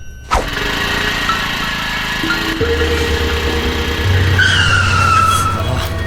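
A scooter engine that is running out of petrol idles and labours close by, its tone shifting and stepping unevenly as it struggles, with no voices.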